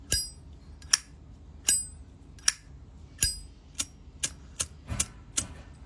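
Genuine Zippo lighter with a Roman-numeral design: a run of about ten crisp metallic clicks and bright chiming rings from the lid, spaced roughly half a second to a second apart, close and loud over near silence.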